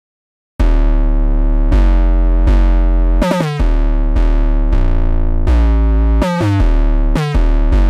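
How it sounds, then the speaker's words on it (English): A distorted bass from FL Studio Mobile, processed with distortion and stereoizer, plays alone as a loud series of sustained, buzzing notes, with several quick stuttering hits between them. "I add distortion and stereoizer and will be sound like this"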